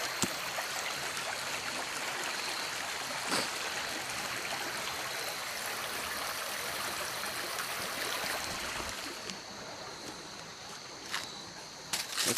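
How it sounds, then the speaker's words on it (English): Creek water flowing toward a river along a hiking trail, a steady close rushing and trickling babble throughout with a few faint clicks, no one talking. "this creek leads straight to the river"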